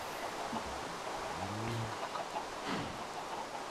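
A single chicken in the Feed The Beast modded game gives a short cluck against a steady hiss of background noise. It sounds synthetic, like game audio, and nobody speaks.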